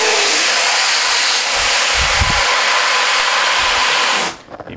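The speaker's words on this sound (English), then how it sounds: "You just put your hands in it, it creates two jets of compressed air." A homemade pneumatic hand dryer built as a Dyson Airblade clone blows two jets of compressed air in a loud, steady broadband hiss, with low rumbles beneath, before cutting off abruptly near the end.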